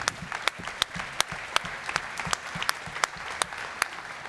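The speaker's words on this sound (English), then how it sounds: "Big round of applause." Applause from the audience at a Forbes demo day after a speaker finishes, a moderate crowd clapping with sharp individual claps standing out over the wash, steady throughout.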